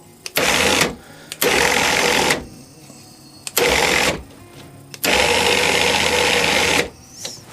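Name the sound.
WARN 2000 winch motor running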